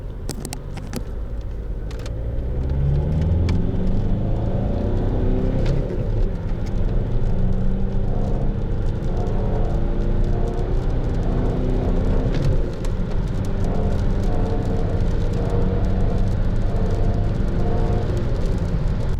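A manual-transmission car engine rises from idle and pulls away, settling into a steady rumbling drive with a whirring undertone throughout.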